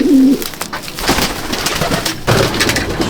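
Madrasi pigeons coo in a brief low burst at the start, then settle into a soft, steady background of flock sounds and rustling, with no voices present.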